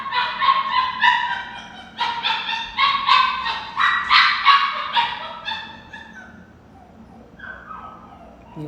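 A dog barks and yelps repeatedly in quick bursts, fairly close and loud, with harmonic whining yips tapering off toward the end; no one speaks over it.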